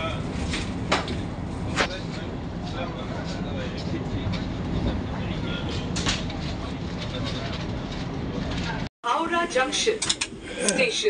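An express train runs on the rails near Bolpur, a steady loud rumble and rattle from inside the carriage that continues for about nine seconds, with a brief dropout before the noise returns.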